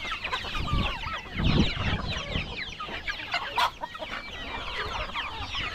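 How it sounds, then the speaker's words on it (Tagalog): Chickens, including a white hen, cluck and chatter continuously outdoors on a hillside farm, with overlapping calls near and far and a brief louder squawk partway through. "Yung isa nating manok, yan, yung kulay puti, oh."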